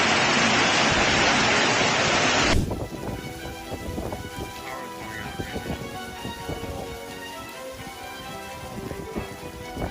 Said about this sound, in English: A dramatic downpour turns Mansilla de las Mulas into a chaotic stage where rain and wind